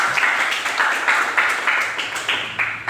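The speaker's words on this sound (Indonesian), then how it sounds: "beri tepuk tangan" A school class claps together in a rhythmic unison pattern, loud, evenly spaced bursts of group hand claps repeating steadily in a classroom.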